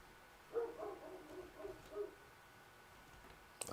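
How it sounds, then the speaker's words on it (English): A dog barks outdoors a short way off, a few faint, muffled barks in a loose cluster, then quiet before a sharper noise at the end. "Y'all hear my dog barking in the back."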